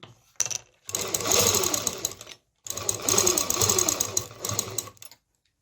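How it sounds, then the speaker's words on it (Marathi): Sewing machine stitching cloth in two steady motorized runs of about one and a half and two and a half seconds, separated by a brief pause, loud and close with no talking. "जिथे मार्किंग केले तिथपर्यंतच शिलाई घेणार आहे"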